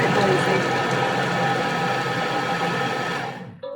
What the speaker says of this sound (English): my machine does the chopping for me